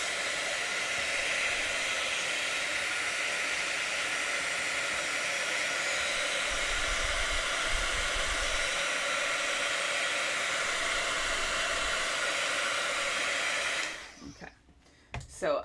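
A heat or air dryer blows steadily over a card-making project, a loud continuous whoosh for about fourteen seconds before cutting off abruptly.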